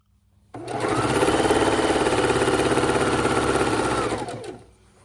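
A sewing machine stitches a quilt in one steady burst of about four seconds, a fast, even whirring that starts abruptly and winds down, with no talking.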